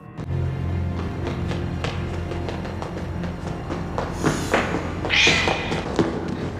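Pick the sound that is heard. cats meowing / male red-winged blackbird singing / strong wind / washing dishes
cats meowing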